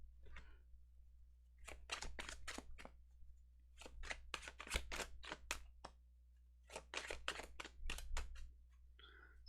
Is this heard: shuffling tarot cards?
yes